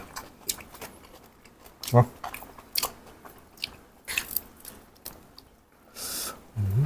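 Crunchy bites and chewing of shrimp heads, eaten whole with wide rice noodles stir-fried in soy sauce with seafood, close to the mic, with irregular sharp crunches and a person talking over them.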